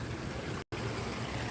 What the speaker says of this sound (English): the trickling of the little brook